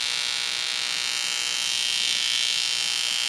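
Violet ray plasma wand running in the open air, giving a steady, bright, high electrical buzz that holds constant and close without a break.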